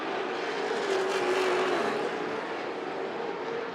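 Late model race cars roar around Rockford Speedway, two battling side by side into turn one for the lead, a loud, steady engine drone holding throughout without a break.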